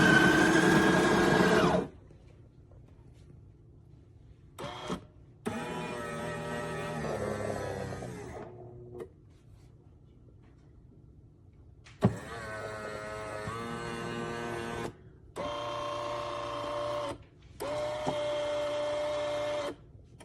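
A Café Affetto automatic espresso machine brewing espresso, with a loud burst of pump noise followed by several separate mechanical whirring and buzzing runs broken by short pauses.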